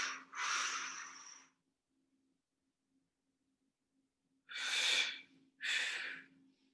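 Breath during a seniors' gym exercise session, with a long exhale followed after a pause by two more breaths in quick succession, each airy and close over a faint steady hum.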